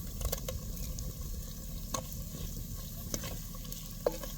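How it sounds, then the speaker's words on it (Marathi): Ground masala with red Kolhapur chilli fries in hot oil over a village wood fire, making a steady dense sizzle with occasional sharp pops and a few scraping stirs of a ladle, close and continuous, without voices. "त्याला चांगलं अंगचं तेल सुटेपर्यंत हे मसाला भाजून घ्यायचा"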